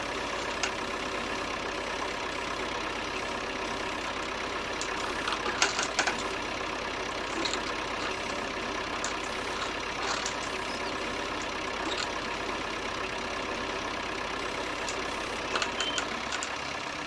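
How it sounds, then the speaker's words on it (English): A tractor engine idles steadily at a wool sale, a continuous mid-pitched diesel rumble with a slight knocking beat, close and fairly loud throughout, with occasional faint clanks and no talk. "We will take this tractor back around to the shop."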